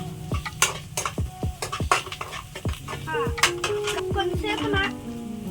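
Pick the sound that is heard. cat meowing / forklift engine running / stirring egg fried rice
stirring egg fried rice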